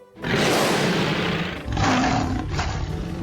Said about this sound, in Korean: 거인은 순식간에 사자로 변해서 으르렁거렸어요